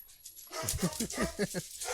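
Several dogs bark and yip in a rapid string of short, mid-loud woofs, heard over quiet background with some overlapping chatter.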